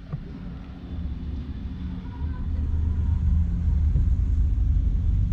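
Driving school car reversing into a parallel parking space, a low steady engine rumble that swells slightly louder partway through, heard from close by with wind buffeting the microphone and no talk.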